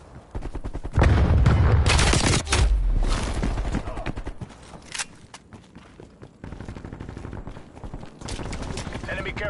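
Rapid gunfire and a heavy blast from a frag grenade in the Call of Duty Cold War video game, with loud, dense bursts early on followed by scattered shots and game effects.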